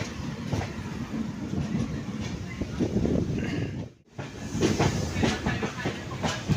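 Inside a train rolling along the rails in Assam, a steady loud rumble carries faint rhythmic clacking and a brief dip in noise midway through.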